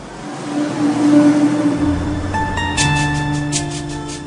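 A car drives in and accelerates, its engine note rising and holding steady nearby with no talking.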